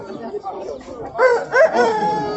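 Rooster crowing at a rooster market in Uzbekistan, a loud close crow rising in the second half over a murmur of people talking.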